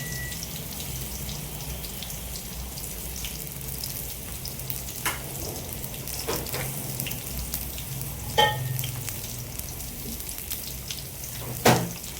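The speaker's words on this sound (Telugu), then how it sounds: "ఇప్పుడు గుమ్మడికాయ ఏదైతే ఉందో అది మనం ఈ ఆయిల్లో ఫ్రై చేసుకుందాం." Pumpkin pieces frying in a pan of oil for a pumpkin stew, a steady soft sizzle running throughout with occasional sharper crackles and pops, close by with no talking.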